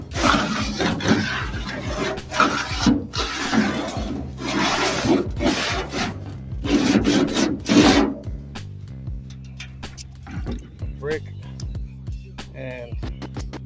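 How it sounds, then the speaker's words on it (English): A brick scuffing the paint on the bed of a 1969 Chevy C10 truck, making a close, loud rasping scrape in repeated back-and-forth strokes that stop partway through, with scattered fainter scrapes and handling sounds afterward. "sorry for the noise, but I use a brick."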